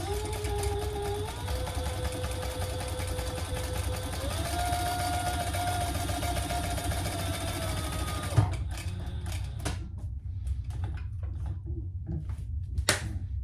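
A sewing machine runs steadily for about eight seconds, stitching around the inside box of a zipper pocket laid flat open. Its whir shifts pitch partway through, then it stops, leaving scattered clicks and handling sounds.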